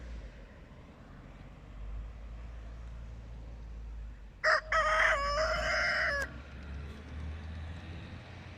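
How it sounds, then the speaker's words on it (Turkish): A rooster crows once, loud and close, over a low rumbling background with faint chicken clucking before and after. "horozlardan, tavuklardan bıktım."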